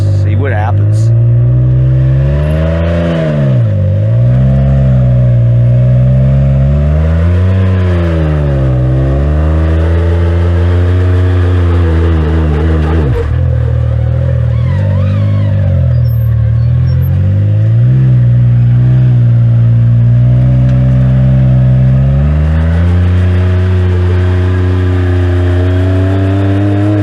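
An off-road vehicle climbs desert hills near Rio Rancho, New Mexico, its engine droning loudly and close throughout, with the pitch rising and falling as the throttle is worked on the slopes.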